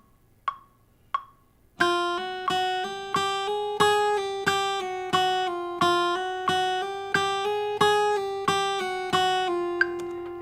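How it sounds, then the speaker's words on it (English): Two sharp metronome clicks count in at 90 bpm, then a guitar plays an even string of plucked notes with hammer-ons and pull-offs, each attack steady and clear, close and moderately loud with no talking. "always practice with a metronome as you're comfortable with it. So it should sound like this at 90 beats per minute."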